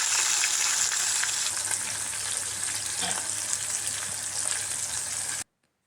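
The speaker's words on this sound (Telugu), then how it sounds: "తర్వాత అదే ఆయిల్లో ఆవాలు, జీలకర్ర, సన్నగా తరిగిన పచ్చిమిర్చి వేసి వేయించుకోవాలి." Mustard seeds, cumin and finely chopped green chillies fry in hot oil with a steady, close crackling sizzle that runs evenly for about five seconds before cutting off abruptly.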